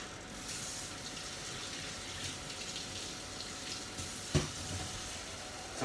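Hot water running steadily from a kitchen tap as a steady hiss while leek and potato soup is made, with one brief clunk near the end and no talking.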